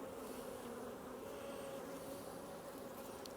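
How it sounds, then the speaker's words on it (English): Honey bees drone in an open beehive, a steady close buzzing hum with no breaks and no voices over it. "These bees have a little honey in here. We've got a few bees."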